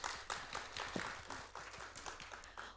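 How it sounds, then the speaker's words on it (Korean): Applause from an audience at a school parent session comes through as scattered, faint clapping, fairly distant and thin, lasting only a few seconds. "Can we have one more round of applause"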